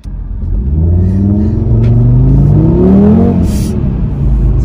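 A car accelerating hard from a standstill toward 100 km/h, its engine revving and climbing in pitch over a steady road rumble, loud and close throughout with no talking.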